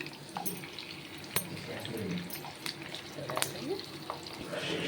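Fish frying in hot oil with curry leaves in a pan, a continuous crackling sizzle with scattered sharp pops and clinks of a spatula, close up.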